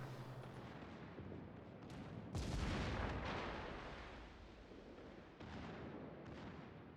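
Battleship shells landing in World of Warships, a dull rumbling barrage that swells into a heavy blast around the middle and then rolls off, fairly faint and without voices.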